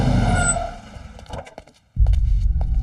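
A car on the road rumbles loudly, slows and drops away to near silence amid faint clicks and knocks, then a heavy engine rumble returns abruptly.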